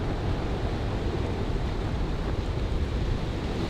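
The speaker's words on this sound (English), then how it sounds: "Here comes the breeze." A steady breeze rushes and buffets the microphone in a continuous broad hiss, with no voices.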